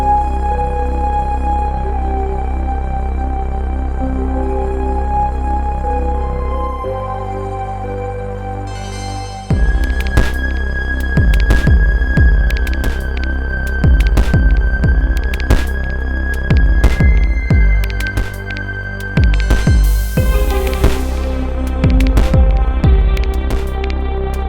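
A 1010music Bento sampler plays a sliced loop on its slicer track: a steady, loud electronic groove with sustained tones, then denser percussive hits and sharp transients from the middle on, with no talking.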